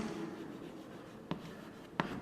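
Writing on a board during a geometry lesson gives a faint, steady scratchy stroking with two sharp taps, close and quiet, with no talking.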